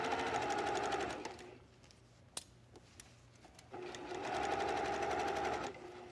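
A sewing machine stitches bias tape around a neckline in two long loud runs, with a quieter stretch between them and a single sharp click in the middle.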